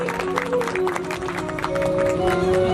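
Crowd applause at a satsang gathering in Kurdi Kheda, a continuous dense patter of many hands clapping, loud and even, with a sustained musical tone and murmuring voices beneath.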